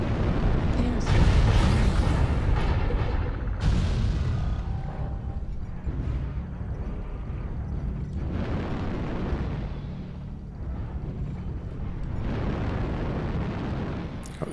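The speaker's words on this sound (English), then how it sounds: "Airstrike" Airstrike explosions pound the field in a mech combat game, one huge roaring blast followed by several more rolling detonations and a sustained rumbling roar that carries through the whole stretch.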